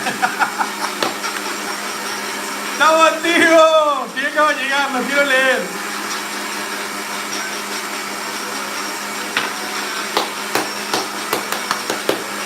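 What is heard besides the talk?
blender running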